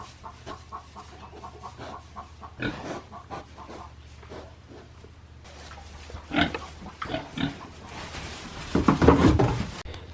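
Pigs being herded back into their stall on a farm, grunting and squealing in irregular bursts that grow louder and busier toward the end, with chicken-like clucks mixed in.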